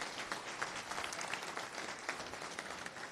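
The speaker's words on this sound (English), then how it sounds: "yes, first an applause, of course." An audience at a FOSDEM 2019 conference talk applauds, a continuous crackle of many hands clapping at moderate distance with no speech.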